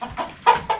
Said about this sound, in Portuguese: Galinha, galinha, galinha!